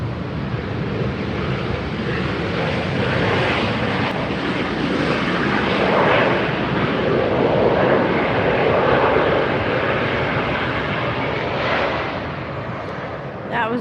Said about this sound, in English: That was our Southwest arrival.